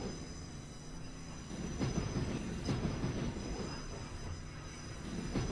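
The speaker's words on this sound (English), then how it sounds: "This train's still going" Train rolling steadily in the ProtoRO-Scale rail game, a continuous rumbling run with wheel noise and periodic clanks over the track, fairly loud and sustained with no voices.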